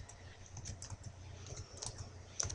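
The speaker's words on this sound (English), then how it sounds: "All I'm doing is clicking inside the box" Fingers type on a computer keyboard while numbers are entered into a Microsoft Word document: soft, quick, uneven key clicks, close by and fairly quiet, with no voices.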